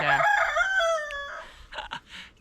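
A rooster crows loudly and close by, one long cock-a-doodle-doo with harmonic tones, followed by a few softer clucks.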